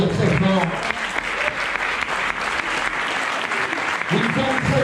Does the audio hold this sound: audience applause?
yes